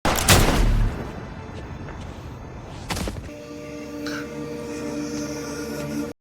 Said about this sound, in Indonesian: Jacob pun mengeluarkan pistolnya sehingga polisi langsung menembaknya hingga tewas seketika.